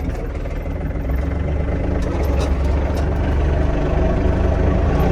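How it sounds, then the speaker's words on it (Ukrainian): A small engine runs steadily at close range as an Iseki Geas TG-253 Japanese mini tractor turns, a continuous low rumble with a mechanical hum that holds level throughout, no talking. "Тракторець обертається. Так само в іншу сторону."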